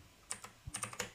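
A short run of quick, light keystrokes as a terminal command is typed on a computer keyboard, close and quiet, with no talk.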